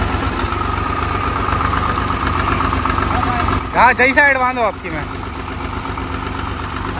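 An old Swaraj 735 FE tractor with a trolley idles steadily at close range, its engine rumbling throughout as people talk briefly over it partway through.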